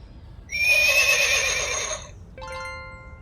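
A horse whinnies loudly and close for about a second and a half, a shaky, wavering neigh, followed by a shorter, steadier second call.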